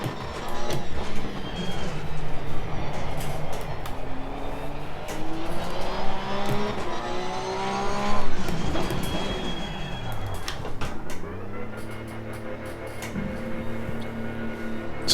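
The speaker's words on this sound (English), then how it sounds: "So just accelerating up to 2nd gear." A race car in Assetto Corsa Competizione accelerates from a standstill up to second gear, with its engine note climbing steadily in pitch and briefly dropping at the gear change before rising again, loud and continuous throughout.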